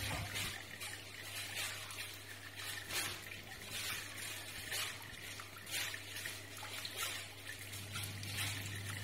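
Distillate trickles steadily out of a reflux still in a thin continuous stream, a soft close splashing with a constant low hum beneath it and no speech.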